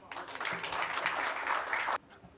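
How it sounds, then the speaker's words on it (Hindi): An audience applauding at a World Hindi Day celebration, a steady, dense burst of clapping that swells and then stops abruptly. "लेकिन मन नहीं भरा क्योंकि तालियां और होनी चाहिए"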